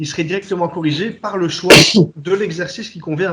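A single sharp sneeze bursts out midway through steady French conversation about strength training, loud and close, with speech continuing on both sides of it.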